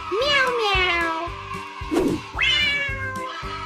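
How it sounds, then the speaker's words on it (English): Cat meowing, two drawn-out, clear meows close up with a brief rustle between them, set against a light musical background. "Can you guess this animal? It says meow meow."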